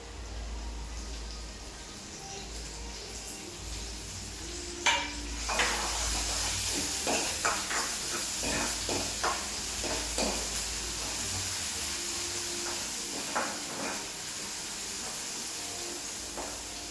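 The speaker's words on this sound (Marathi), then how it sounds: "मसाला ना छान तेलामध्ये फ्राय होऊ द्यायचा आहे" Village-style masala spices with ginger fry in hot oil in a pan, producing a steady close sizzle and hiss broken by irregular scraping and clinking of a stirring spoon, with no one speaking.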